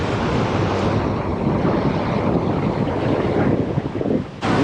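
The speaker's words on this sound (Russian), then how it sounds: "Я люблю, когда ветерок." A strong sea breeze blusters across the Kusadasi waterfront, a dense roar of wind buffeting the microphone with surf underneath, steady and loud before a brief lull near the end.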